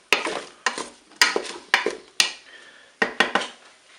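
Potatoes and button mushrooms stirred in a Cookeo multicooker pot, a series of sharp, close utensil knocks and scrapes against the pot, roughly eight distinct strokes with brief pauses between them.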